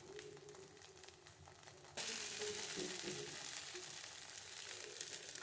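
Oil sizzling around a breakfast pancake frying over a slow flame, starting as faint crackles and swelling after a couple of seconds into a steady, loud, close sizzle that continues to the end.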